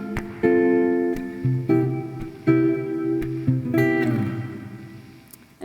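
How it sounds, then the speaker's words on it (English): Guitar chords ring out one after another with a moving bass line beneath, each new chord strummed and left to sustain, played close and clean with no talking. "But now what we're going to do is add a bit of bass movement."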